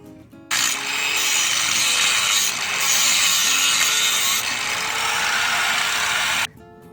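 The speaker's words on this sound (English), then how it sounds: "And I guess grinder will do that." An angle grinder cuts through metal bracketry, a loud, steady broadband whine that runs continuously for about six seconds with a brief dip partway, close up and with no talking.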